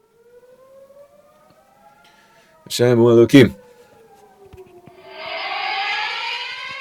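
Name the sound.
civil defense siren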